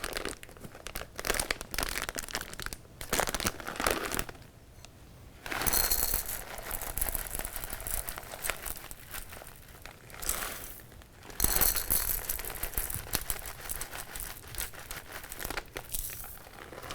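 Chocolate chips pour into an energy bite mix, with crinkling, rattling and clattering in uneven bursts and brief lulls, close and without talk.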